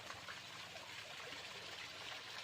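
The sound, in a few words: fast-flowing water in a ditch that was once a river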